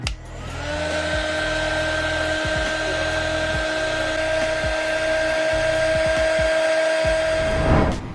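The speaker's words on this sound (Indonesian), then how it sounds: "Setelah itu, saya coba keringkan menggunakan hot gun." A hot air gun blows steadily at close range to dry a homemade roll-up drum, a loud constant whine with a sustained tone that switches off near the end.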